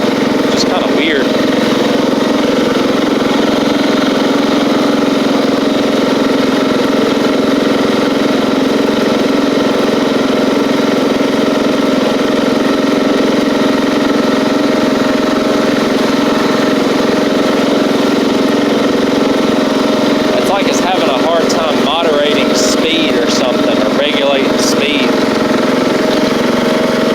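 Craftsman LT3000 six-speed lawn tractor engine with engine trouble running steadily at close range, a constant loud mechanical drone throughout with some rattling clatter toward the end.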